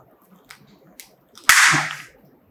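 A realme GT 2 Pro smartphone is bent by hand during a durability test until its display cracks: two small faint ticks, then a sudden sharp snap with a brief crackling burst, close and alone.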